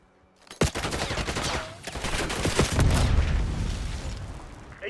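Gunfire in the multiplayer HVT mode of Call of Duty: Black Ops 6, a sharp opening shot followed by a dense, sustained burst of rapid fire and booming impacts lasting several seconds, loud and continuous.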